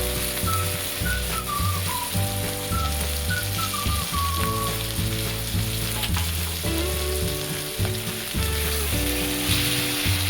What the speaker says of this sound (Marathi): आपण याला जरा भाजी परतून घेऊया. आपण बटाटा टाकून घेऊया.